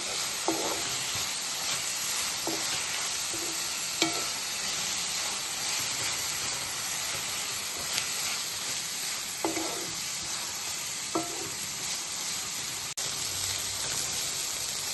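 Amaranth leaf (thotakura) curry with turmeric and chilli powder frying in a pan over a medium flame, a steady close sizzle running throughout with occasional scraping stirs of a spoon.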